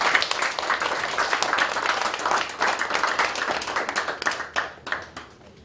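A church congregation at a pastor's installation thanksgiving service bursts into lively applause, many hands clapping in a busy, uneven wash that gradually thins and fades out near the end.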